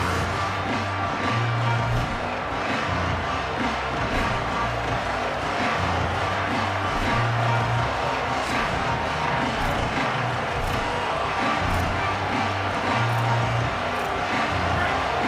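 Stadium crowd noise in the EA Sports College Football video game, a constant dense roar and murmur from a large crowd that fills the whole stretch, with a low hum underneath.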